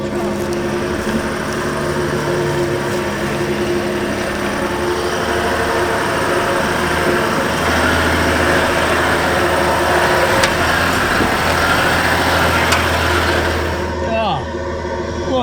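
A Toyota Land Cruiser 300 climbs a steep hill with a constant, loud engine drone and rumble throughout, and voices talk inside the vehicle over the noise.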